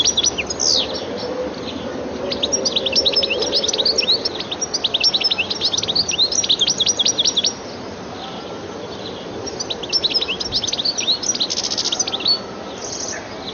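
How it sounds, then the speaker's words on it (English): A goldfinch in a garden repeatedly gives bright, twittering calls and a rapid, elaborate song, close and clear, with brief pauses between bursts and no voices. "The goldfinch's looks, as well as its attractive calls and more elaborate song, make it a welcome visitor to gardens."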